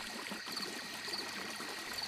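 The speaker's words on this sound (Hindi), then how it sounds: "पानी तब भी बह रहा था।" Water flows steadily with a soft, continuous trickling and gurgling, fairly quiet and uninterrupted.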